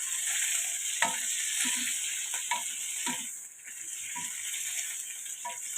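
Tomato halves fry and get stirred in a pan, a steady soft sizzle with scattered spoon scrapes and taps against the metal, close up and alone without talk.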